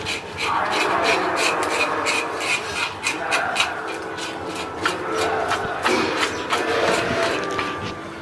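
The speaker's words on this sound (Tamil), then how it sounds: "செதில் எடுத்துட்டுருக்காரு." Fish scales being scraped off by hand while cleaning large fish for frying at a village feast: a continuous rasping, rubbing scrape with rapid repeated strokes, fairly close and steady throughout.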